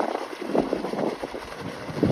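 Hot spring water gushes out forcefully with steam at Chumathang in Ladakh, a rough continuous rushing roar mixed with heavy gusts of strong wind buffeting the microphone.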